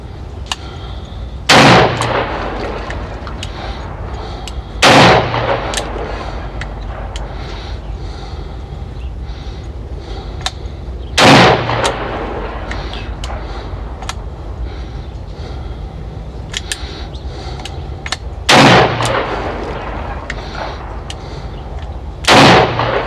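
An EAA Windicator .357 revolver is fired double action at an outdoor range. Five loud, sharp shots ring out several seconds apart, each a sudden blast that decays quickly, with steady wind or ambient noise between them and no talking.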